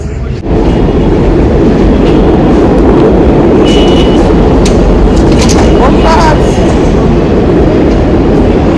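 A train rumbles past close by, a loud continuous roar with rattling and clacking throughout, and a voice speaks briefly over it.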